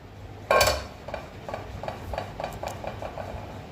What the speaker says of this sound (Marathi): कुकरमध्ये भांडं हलगट ठेवून घेऊ